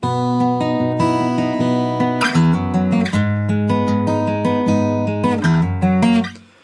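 An acoustic guitar plays a short, bright melodic phrase with ringing plucked notes and sustained chords, steady and close, with no talking.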